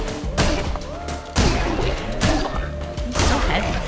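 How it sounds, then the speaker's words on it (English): A bomb exploding in the Cult of the Lamb video game, with several loud, heavy thuds and blasts in quick succession over busy game sounds. "That's a bomb."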